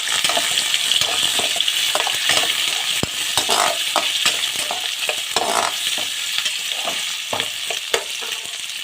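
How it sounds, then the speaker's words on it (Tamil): Masala with soaked cashew nuts sautés in a pan for star-hotel-style chicken kali mirch, a loud close sizzle under frequent scraping and clacking strokes of a stirring spoon. "வதங்கிட்டு இருக்கும்போது நம்ம முந்திரி பருப்பு இதில் போட்டுடலாம்."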